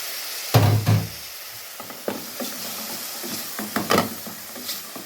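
Shrimp dropped into a hot pan for palabok: a loud initial sizzle and clatter, then softer frying hiss with scattered knocks and scrapes of stirring, close by.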